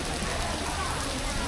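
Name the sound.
tropical rain falling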